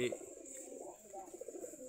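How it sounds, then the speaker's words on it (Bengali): Native giribaz pigeons in a home loft give faint, low, rolling coos at a distance, quiet and steady against a soft background hiss. "আমাদের দেশি কবুতর"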